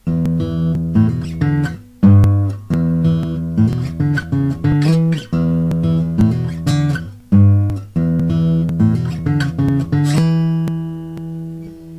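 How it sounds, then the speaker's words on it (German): An electric guitar plays a blues riff in E: a loud, choppy, repeating figure of plucked notes and short chord stabs in a swinging rhythm, ending on a ringing held chord, with nobody talking. "Okay, Blues Riff Nummer 2 hört sich so an."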